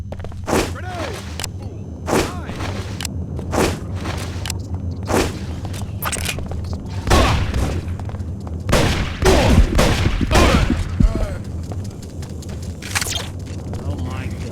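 A grenade explosion and repeated gunfire in Deus Ex: Invisible War, with loud separate shots and booms spread through the passage, some clustered close together, over a steady low hum, with brief voices now and then.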